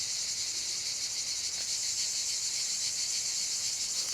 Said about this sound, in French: Ouais, les cigales.